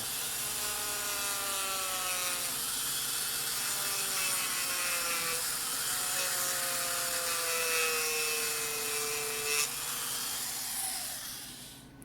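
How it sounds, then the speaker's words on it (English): A Dremel rotary tool grinds a toenail with a continuous high motor whine. The whine shifts in pitch as the tool presses and eases, fairly close and steady for about twelve seconds. "I'm going to see if he's okay with the Dremel"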